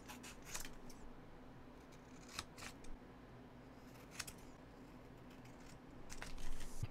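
Scissors cutting a box shape out of paper packaging, giving a few scattered crisp snips and rustles over a steady low room hum, with long quiet gaps between cuts.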